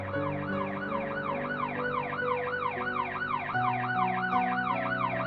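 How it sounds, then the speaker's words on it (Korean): A wailing emergency siren, likely an ambulance, rises and falls in steady repeated sweeps throughout, heard from across a footbridge with a sustained low tonal drone underneath and no voices. "육교 저편에서 들려오는 사이렌 소리에 천은중 씨는 걸음을 늦춘다"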